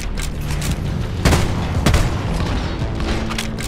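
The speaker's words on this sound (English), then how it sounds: "my turrets are always shooting shit" Automated turrets in Deep Rock Galactic fire a rapid stream of loud shots with heavier booming hits at intervals, a busy, continuous barrage without talk.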